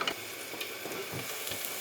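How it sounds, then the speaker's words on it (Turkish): Brief steady sizzle of onions and peppers frying in a pan, with a few soft stirring scrapes. "Soğanımla, soğanımla biberim şöyle kavruldu."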